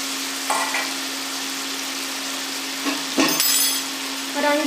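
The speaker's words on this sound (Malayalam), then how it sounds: "ഇനി അതേ പാനിൽ തന്നെ ആ സെയിം നെയ്യിലേക്ക് നമ്മുടെ പൈനാപ്പിൾ കഷ്ണങ്ങൾ ചേർത്ത് വെക്കാം" Pineapple pieces fry in ghee in a pan, a bright steady sizzle over a constant low hum, broken by a few short clattering knocks and scrapes of a spoon against the pan.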